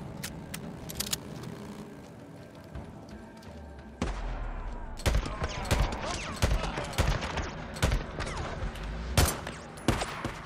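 Gunfire in the game Days Gone: sharp, scattered shots, sparse at first and then a rapid run of loud, close cracks over a low rumble, spaced irregularly through the clip.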